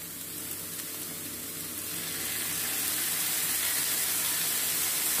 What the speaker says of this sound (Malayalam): ഇളക്കി കൊടുത്ത് നന്നായിട്ട് വഴറ്റണം.